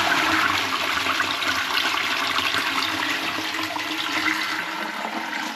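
Toilet cistern refilling through its fill valve, a steady broadband rush of water that stays loud and even for several seconds and tapers slightly toward the end.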